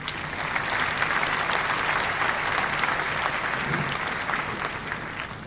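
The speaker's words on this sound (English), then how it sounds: "You get the clap. I mean, the applause." Applause, a steady, dense patter of many hands that holds at moderate level throughout, with no talk over it.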